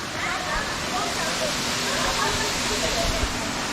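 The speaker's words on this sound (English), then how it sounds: "I want to enjoy the waterfall now." Hidden Tanglir waterfall in the forest near Kuala Lumpur, Malaysia, roars as a steady, broadband rush of falling water, constant and fairly close throughout, with no voices.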